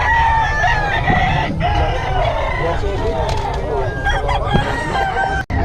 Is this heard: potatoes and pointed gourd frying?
no